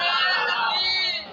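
Crowd at a religious gathering shouting a slogan in unison, a loud sustained collective roar lasting about a second before tapering off.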